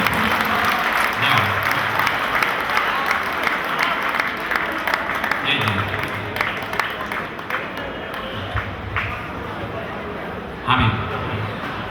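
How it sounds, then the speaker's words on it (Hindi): A large audience at a college cultural festival claps for a Haryana comedy poet taking the stage, with loud, sustained, crackling applause that thins out as speech and stage sounds run underneath. "एक बार भरपूर तालियों के साथ आमंत्रित करें भाई श्री अरुण।"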